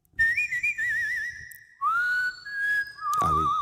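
A man whistles a film theme, clear, close and solo, with long sustained notes, wavering vibrato and sliding pitch changes.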